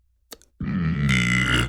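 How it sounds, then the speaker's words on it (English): A person gives one loud, close, drawn-out burp lasting about a second, preceded by a brief faint sound and a moment of silence. "excuse me, I had to burp right there."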